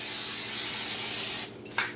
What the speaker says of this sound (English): we're just going to spray our pan